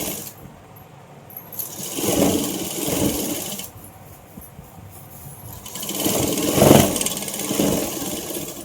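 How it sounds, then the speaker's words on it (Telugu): Sewing machine running in bursts as it stitches straight seams on cloth for Patiala pants, with two louder spells of steady whirring separated by quieter gaps. "సో దీన్ని ఇలా స్ట్రైట్గా స్టిచ్చింగ్ చేయాలి. సో మక్రం మీద కాకుండా క్లాత్ పైన స్టిచ్చింగ్ అయ్యేలా చూసుకోండి."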